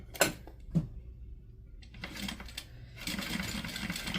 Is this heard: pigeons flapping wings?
no